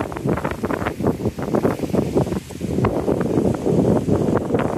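Loud, steady wind buffeting a nearby microphone while walking in a park, a continuous roaring rush that swells and dips slightly throughout.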